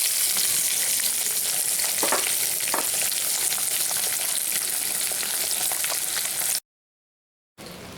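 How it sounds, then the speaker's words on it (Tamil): Onions sautéing in a pan for semiya upma, with curry leaves and coriander, a steady, close frying sizzle with occasional stirring scrapes, cutting out briefly near the end. "இப்போ வெங்காயம் நல்லா பொன்னிறமாக வதக்கியாச்சு."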